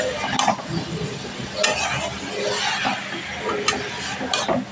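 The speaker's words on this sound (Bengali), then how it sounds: "সয়াবিন আলুটা দিয়ে দিলাম, দিয়ে একটু ভালোভাবে কষিয়ে নেব।" Soybean chunks and potatoes for an egg curry being stirred and sautéed in a pan, with steady scraping and a low sizzle punctuated by a few sharp utensil clinks against the pot.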